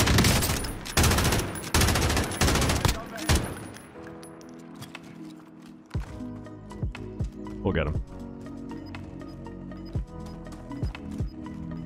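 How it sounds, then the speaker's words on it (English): Rapid machine gun bursts in Call of Duty Warzone ring out loudly in the opening seconds, followed by scattered single shots and clanks under a player's talk. "Machine gun."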